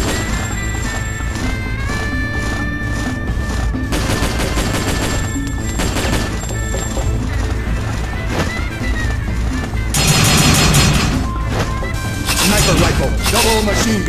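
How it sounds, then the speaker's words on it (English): Heavy machine gun in the video game Metal Slug 3D, rapid bursts of automatic gunfire with explosions and crashes over game music, loud and dense throughout, with in-game sound effects layered on top. "Heavy machine gun."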